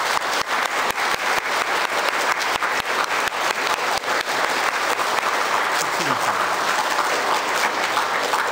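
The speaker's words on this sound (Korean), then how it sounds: "다 함께 박수 한번 쳐주세요." A Korean Catholic congregation applauds during the Easter Vigil Mass, loud sustained clapping from many people filling the church, with some voices mixed in.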